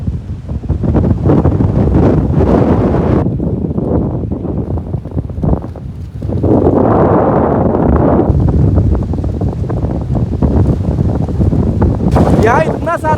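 Strong wind roars among tamarind trees, loud and continuous with heavy buffeting against the microphone and surging gusts. A voice speaks briefly beneath it.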